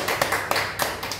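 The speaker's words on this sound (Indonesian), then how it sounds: "beri tepuk tangan untuk Ibu" An audience claps for a woman in a short, scattered burst, a handful of irregular hand claps rising and fading over about a second in a room setting.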